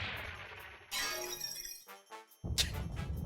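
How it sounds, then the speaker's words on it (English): Glass shattering sound effect in the video game Super Robot Wars V, a bright crash breaking up into scattered tinkling fragments, followed by a second sharp burst, fairly faint overall. "really just sounds like the wine glass thrown down by Dracula"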